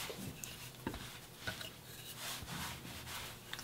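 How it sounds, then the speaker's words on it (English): Dough being rolled out with a rolling pin for meat pies, a soft rubbing and scraping texture with a few light knocks, quiet and close, no talking. "Okay, so now you're gonna roll the dough."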